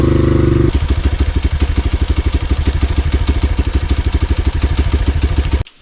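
A small engine idles briefly, then runs at a fast, steady putter with a rapid metallic ticking clatter from out-of-adjustment valves, and cuts off abruptly at the end. A KOVI 300 Advance moped engine after warm-up.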